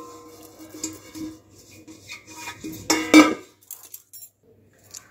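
Ghee being spread around the inside of a metal biryani cooking pot, with light scraping and clinking of a spoon against the pot, one sharper clatter in the middle, quiet otherwise.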